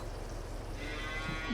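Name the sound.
cow mooing in video game Farming Simulator 22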